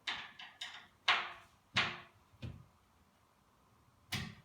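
Hinge adjustment on a display cabinet door: a series of sharp close knocks and clicks, several in quick succession, then a pause and one last tap, in an otherwise quiet room.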